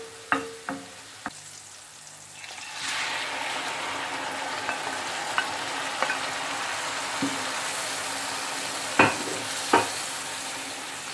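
Menemen sizzling and frying steadily in a steel pan, a continuous bright crackle that starts quietly, swells after a few seconds and stays loud, with occasional sharp clinks of a utensil against the pan.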